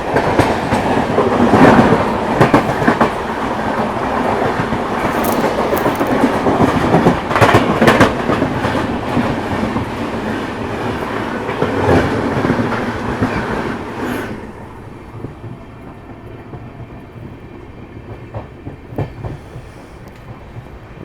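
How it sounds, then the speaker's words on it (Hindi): A train passing close alongside on the adjacent track in dense fog, loud rumbling and rhythmic clickety-clack of wagons for about fourteen seconds, then the roar drops away abruptly to a quieter steady rail hum; no talking. "बगल से कोई ट्रेन की क्रॉसिंग हो रही है।"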